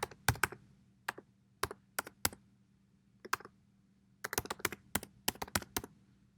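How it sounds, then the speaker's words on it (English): An email address typed on a computer keyboard in scattered bursts of crisp, close key clicks, with pauses between them and a dense run of taps near the end, over a quiet hum. "I'm going to type in my email."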